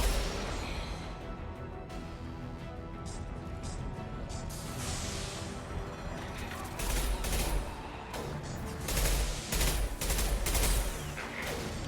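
Sniper rifle fire in the Mass Effect 2 mercenary fight at Archangel's base, with several sharp, loud shots standing out from a dense, continuous wash of combat gunfire and crashes.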